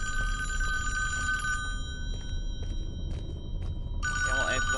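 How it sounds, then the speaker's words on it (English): A telephone rings in the Friday the 13th video game, a bright electronic trill that sounds in repeated bursts separated by short gaps, with soft background noise beneath it. "It's another phone that's ringing."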